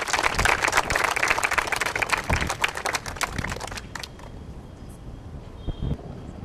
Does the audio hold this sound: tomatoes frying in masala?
no